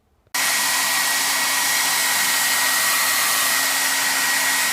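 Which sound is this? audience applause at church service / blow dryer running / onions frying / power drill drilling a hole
blow dryer running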